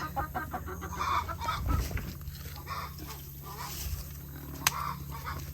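A hen clucks in low, soft bursts from close by in a quiet coop, with some rustling and a brief sharp knock.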